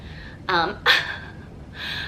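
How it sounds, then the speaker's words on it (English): A few sharp, breathy gasps, close to the mic, separated by short pauses as someone catches their breath. "I'm like gasping for air because I've been talking so fast."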